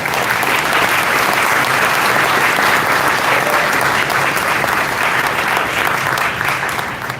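A large audience at a procurement fair applauds staff with dense, steady clapping that stays loud and unbroken from start to finish, a continuous wash of many hands in a big venue.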